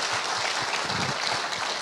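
A brief burst of steady, fairly faint applause from a congregation at a Christmas church service, dense clapping throughout without any voices on top.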